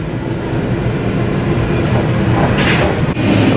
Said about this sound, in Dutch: wij zitten in de trein en we zijn onderweg naar Utrecht nu inmiddels